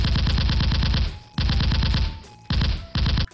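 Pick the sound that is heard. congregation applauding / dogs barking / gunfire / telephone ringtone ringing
gunfire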